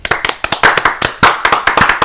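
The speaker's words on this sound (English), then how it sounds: "clap with me." A small group claps hands in a brisk, uneven rhythm, about a dozen sharp, close claps in quick succession with no talking.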